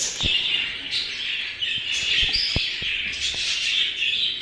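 Bright, high chirps and tweets from small caged breeding birds fill the clip continuously, close by, with a few sharp clicks and taps mixed in.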